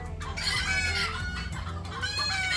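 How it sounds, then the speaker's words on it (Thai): Backyard chickens kept at a home in Thailand clucking close by, with a rooster crowing over them in a short, busy burst of overlapping calls. "จะมีเสียงไก่ แทรกเข้ามาด้วยนะคะ เพราะว่าเลี้ยงไก่ด้วย"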